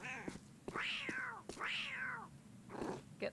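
Cats meow in the video game Postal 4, giving several drawn-out, close meows one after another over faint game background noise.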